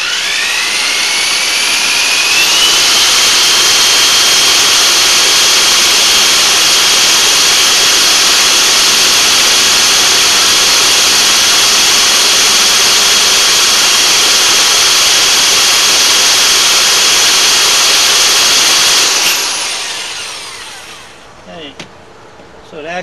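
A 12-volt VW Beetle generator spun as a motor, a loud steady high whine rising in pitch at the start and holding for about twenty seconds before cutting off and spinning down.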